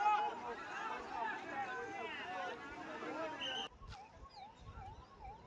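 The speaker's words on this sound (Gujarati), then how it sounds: "અહીંયા એમ્બ્યુલન્સના હોર્ન આપ સાંભળી શકો છો, વારંવાર એમ્બ્યુલન્સ અહીંયા આગળ આવી રહી છે" An ambulance siren wails in a rising and falling tone at the site of a collapsed bridge over the Mahisagar river between Vadodara and Anand. It comes through after a stretch of loud crowd chatter and traffic noise.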